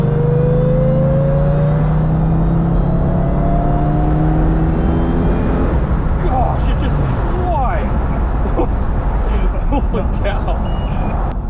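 Supercharged Toyota/Lexus car engine pulling up a hill at about 2,500 RPM, its steady drone rising in pitch with gear changes, heard loud from inside the cabin.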